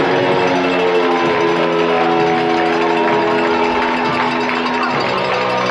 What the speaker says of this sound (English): Crowd's louder than ever.